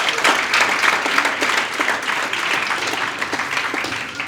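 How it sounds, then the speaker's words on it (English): Audience at a community engagement awards ceremony clapping in a sustained, dense round of applause, fairly close and even, lasting the whole stretch without voices over it. "give yourselves a massive round of applause"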